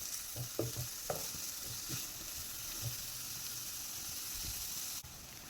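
Vermicelli roasting in a pan for semiya and egg upma, a soft steady sizzle and hiss with intermittent scraping knocks of a spoon stirring, close but fairly quiet.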